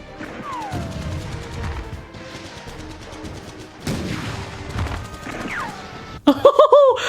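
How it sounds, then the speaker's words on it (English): Gunfire in the 1927 silent film Wings: bursts of crashing shots and rattling fire over a busy mixed soundtrack, ending in sharp loud impacts. "These men are shooting like stormtroopers."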